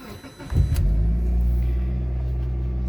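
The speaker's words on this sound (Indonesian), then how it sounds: "Oke, kalau gitu saya akan nyalakan mesinnya." A Mitsubishi Lancer Evolution engine cranks briefly and catches, then settles into a steady, deep, rumbling idle close up with no talking.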